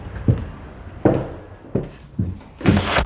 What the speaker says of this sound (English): So we just closed your glass door